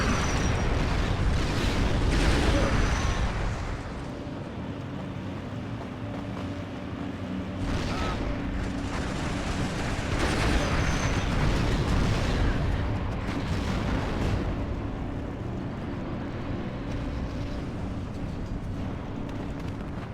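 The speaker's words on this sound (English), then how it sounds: "And you guys see all the napalms coming in." Napalm strikes and explosions pound a battlefield in a Warhammer 30K video game mod, a continuous rumbling barrage with repeated heavy blasts swelling and fading, dense and loud throughout.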